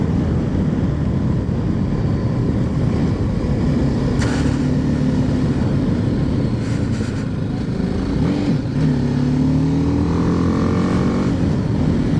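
A motorbike ridden along a scenic lakeside road gives a loud, close engine drone that holds steady throughout, with rising and falling pitch as it shifts and changes speed, and no voices.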